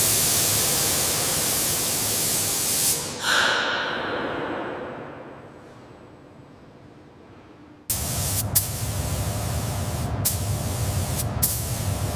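A spray gun lays white undercoat on a Concorde airframe in the factory. The loud, even hiss cuts out after about three seconds and fades to quiet, then bursts back on abruptly with a few brief sputters.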